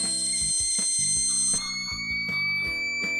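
Harsh electronic buzzer droning loudly and continuously, with pulsing tones and clicks running through it.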